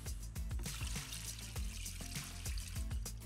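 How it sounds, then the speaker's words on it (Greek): Three litres of water poured into a pot of raw chicken in a home kitchen, a faint, steady trickling stream heard alone. "Τώρα θα προσθέσω μέσα στο κοτόπουλο 3 λίτρα νερό."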